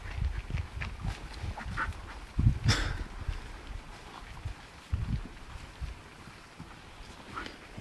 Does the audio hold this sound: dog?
yes